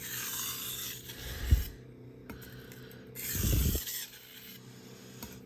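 Knife blade swept across a Naniwa Chosera 600 grit whetstone in finishing strokes, two distinct rasping passes about two seconds apart, close and fairly quiet with a hiss of grit between them.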